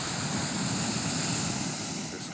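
Ocean waves wash in steadily onto a black lava beach in Hawaii, a continuous close surf roar with wind buffeting the microphone.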